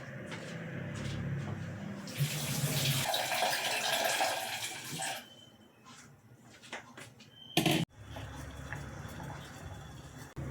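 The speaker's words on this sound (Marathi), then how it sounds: "आपल्याला टोमॅटो धुवून घ्यायचे आहे." Tap water runs and splashes in a kitchen sink while tomatoes are washed for red pasta, a steady hiss broken by brief gaps and clatters, fairly close.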